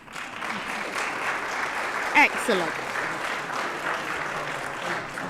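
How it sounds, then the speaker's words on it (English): A round of applause fills a city council chamber during a full council meeting, steady hand clapping from many members lasting several seconds, with a brief spoken word in the middle. "Please give yourselves a huge hand of applause."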